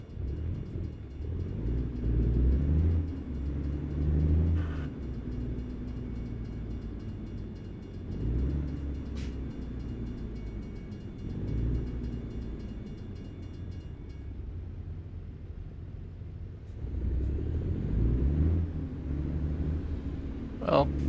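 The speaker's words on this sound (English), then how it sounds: "Well, at least it wasn't a long train." Freight train in the American Truck Simulator game rumbling past at steady moderate volume, low rolling rumble with faint rail clatter, swelling and easing over about twenty seconds.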